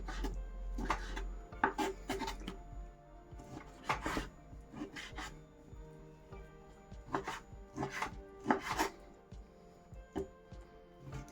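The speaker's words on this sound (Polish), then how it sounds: "Kroję sobie drobną kosteczkę." About a kilogram of meat being diced into small cubes for bigos, with irregular bursts of knife chops on a cutting board, some rapid runs and short pauses, close and clear.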